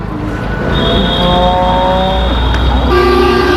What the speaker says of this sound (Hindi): मेला बाजार ठीक रोड के किनारे ही है, तो बहुत ज़्यादा शोर शराबा का भी सामना करना पड़ता है